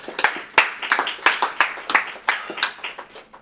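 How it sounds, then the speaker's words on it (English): A small class claps briefly after a critique session, a sparse, uneven round of individual hand claps heard close by. "Give yourselves one more round of applause."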